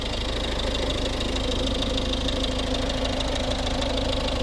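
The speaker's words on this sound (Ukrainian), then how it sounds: "Це робота двигуна." A 2011 Volvo S40 1.6 D2 diesel engine (D4162T) idles with a steady, rattling, knocking chug, close and continuous throughout, with no voices.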